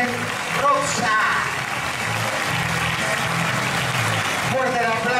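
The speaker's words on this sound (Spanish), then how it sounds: "Fuerte el aplauso." Applause at the Parakultural tango salon at Salon Canning, a broad wash of clapping from the crowd with voices talking over it at the start and end.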